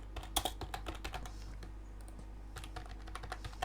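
Quiet, close typing on a computer keyboard, irregular clusters of key clicks with a short pause in the middle, no voices.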